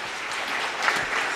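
Audience applause at a Beninese youth summit, a dense, steady wash of clapping from a crowd, loud and continuous with no voices over it.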